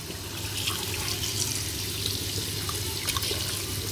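Tap water runs steadily into a sink as freshly gathered shellfish are washed and cleaned, a continuous close splashing rush with no voices.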